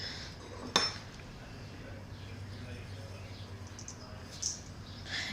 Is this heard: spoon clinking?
yes